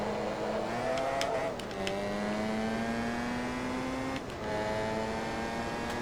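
Race car circling a track in Forza Motorsport 2 on a long straightaway, its engine a steady droning whine that climbs in pitch through each gear and drops sharply at two shifts, loud and continuous with no voices.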